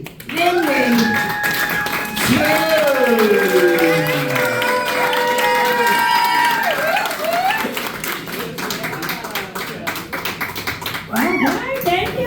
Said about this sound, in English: Could you please clap it up for the comedy stars of Serenity, London